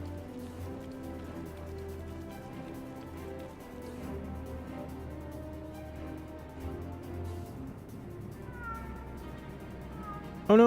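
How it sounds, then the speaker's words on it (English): A cat meows in Final Fantasy XIV, the game's cry rising near the end over a steady backdrop of music and ambient game sound. "Oh no, we left the cat behind."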